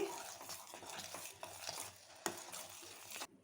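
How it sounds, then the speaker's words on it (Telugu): Bombay rava semolina sweet stirred in a pan on a low flame, with a continuous scraping swish of the spoon through thick mixture, one sharp knock on the pan near the end, no voices. "సిమ్లో పెట్టుకొని బాగా కలుపుకోవాలి గట్టిగా అయ్యేంత వరకు కలుపుతూ ఉండాలి"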